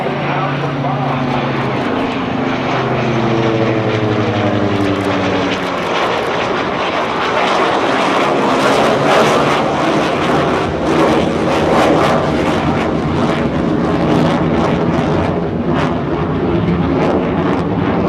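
A propeller warplane from the US Navy legacy flight roars past at the NAS Oceana airshow, a loud sustained engine drone with sweeping pitch shifts as it passes, with a voice talking over it.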